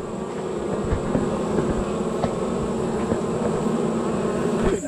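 Bees buzz inside a nest in a cut tree trunk, a dense continuous droning hum held close and steady throughout, with no speech.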